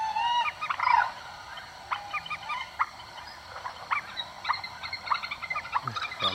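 A purple swamphen calls in short, harsh, shrieking bursts, repeated at irregular intervals over a quiet outdoor background, fairly near and clear, with no talking.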